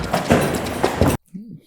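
A door banged by a foot inside an old cell block gives one loud hollow thud, followed by a couple of softer knocks, then a brief voice after a short silence.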